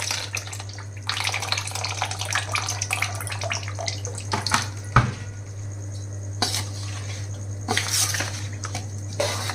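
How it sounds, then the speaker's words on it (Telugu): Liquid poured carefully over cut mango pieces for mango pickle, a soft steady trickle with a few light clinks of a vessel, set against a constant low hum. "జాగ్రత్తగా పైపైన ఇలా పోసుకోవాలి"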